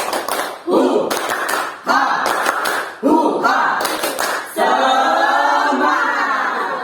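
A group claps the rhythmic Indonesian 'tepuk semangat' cheer in a counselling session, sharp bursts of clapping in a patterned beat, followed by voices chanting together.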